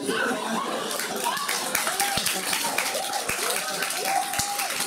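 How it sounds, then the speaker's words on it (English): Scattered audience clapping at a comedy show, a handful of claps under ongoing talk and light chuckles from the crowd. "Someone's clapping at me not getting a semi."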